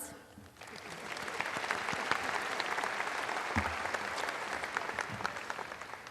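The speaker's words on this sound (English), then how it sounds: "That, I think, deserves a round of applause." Audience applause at a high school graduation ceremony swells quickly after a brief quiet start, then holds as steady, dense clapping from a large crowd, moderately distant.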